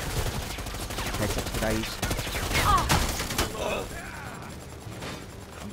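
Rapid bursts of gunfire from the video game Predator: Hunting Grounds crackle loudly in quick succession, with a player talking over the shots.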